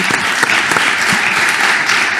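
Loud, dense applause from an audience for guest speaker Stéphane Dallier at a city forum in Reims, many hands clapping close and continuous throughout.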